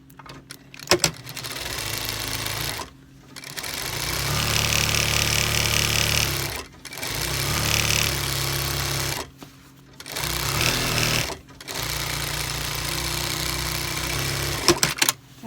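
A sewing machine stitching the lining of a handmade long coat runs in four sustained bursts of whirring motor drone with short silent pauses between them, close and loud, with clicks of handling at the start and end.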